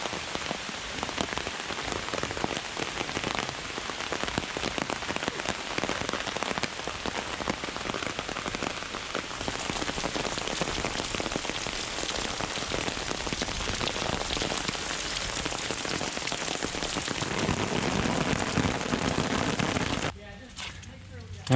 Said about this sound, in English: if the rain lightens up here